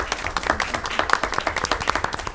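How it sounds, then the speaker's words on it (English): A modest crowd at a city council and school board meeting gives a brisk round of applause, individual claps distinct and close, moderately loud and continuous for the whole stretch. "Please give your city administrator as well as your former city administrator a round of applause"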